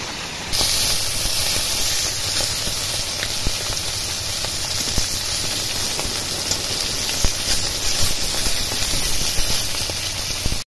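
Tangra fish, egg-bearing and bought live, fry in hot oil in a wok, giving a loud, steady sizzling hiss that runs unbroken for the whole stretch with no one speaking.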